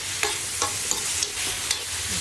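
Food sautés in a pan with a loud, continuous sizzle and a few sharp scrapes from stirring at intervals. No one speaks.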